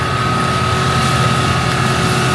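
A Valtra T235 tractor runs steadily while driving a NIUBO TDD mulcher, a dense continuous mechanical drone with a faint constant whine over it, close and loud with no breaks and no talking.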